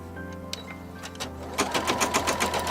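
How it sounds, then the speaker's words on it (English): An embroidery machine running placement stitches on hooped fabric and stabilizer, a faint hum and a few clicks before fast, steady mechanical needle chatter sets in and continues up close. "Then we're going to stitch down the placement stitching, just like we did before."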